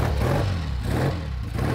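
A Triumph Speed Twin motorcycle engine catches on its first kick and runs with a close, low, steady throb that has a faint mechanical clatter.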